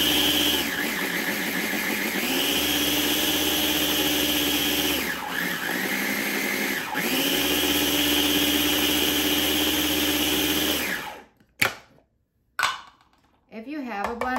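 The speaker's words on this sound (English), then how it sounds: "just blend it up a little bit more" A blender whirs steadily and loudly blending a mango pie filling, its motor pitch dipping briefly a few times as the contents churn, then cuts off near the end.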